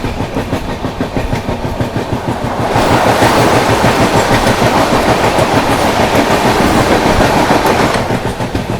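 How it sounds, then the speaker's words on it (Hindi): The Vande Bharat Express, running from Gomti Nagar toward Saharanpur, rushes past close by with a loud, steady roar and rhythmic clatter of wheels on rail joints that swells mid-pass and eases slightly at the end. "सामने से आ रही है गोमती नगर से चलकर सहारनपुर की ओर जाने वाली वंदे भारत एक्सप्रेस"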